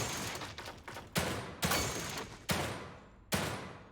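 Gunfire in the video game The Evil Within 2: five loud, heavy shots ring out at uneven intervals, each with a long decaying echo tail, with no voices over them.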